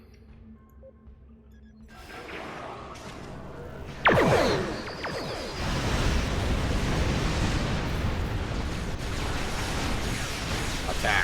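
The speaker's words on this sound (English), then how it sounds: "A true warrior spams beam fire at will." Sustained energy-weapon beam fire in the Star Trek Online space game, a loud burst of roaring, crackling blasts building from a low rumble into a dense continuous wash, with a voice speaking briefly.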